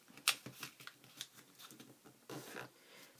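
Paper being folded and creased by hand while making ephemera, a series of close, soft crinkles and rustles with one sharp snap near the start and a longer scraping crease toward the end.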